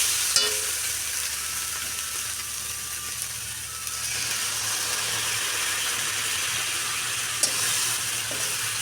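Food sizzling steadily in a hot pan while being stirred, a continuous close hiss with occasional scraping clicks from the utensil.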